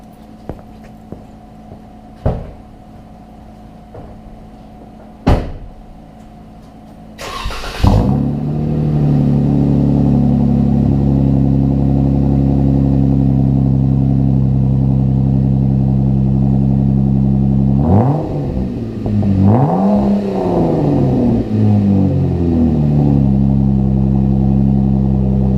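Jeep Wrangler JK fitted with a Pypes HGC exhaust kit cranks over in a few short clicks, then fires and settles into a steady loud idle, followed by a couple of throttle blips that rise and fall near the end.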